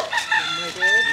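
A rooster crows briefly amid the clucking of chickens nearby.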